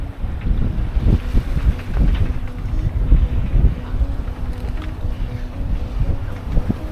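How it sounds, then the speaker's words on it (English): A sailboat under way at night during a first overnight passage, with a steady roar of wind and water rushing along the hull, gusty wind buffeting the microphone, continuous and close, no talking. "We are getting into the night sailing."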